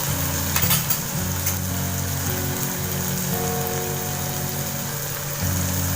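Garam masala, pepper and cumin powder are stirred into a frying egg malai masala. A dense, steady sizzle fills the pan, with a few soft stirring scrapes near the start.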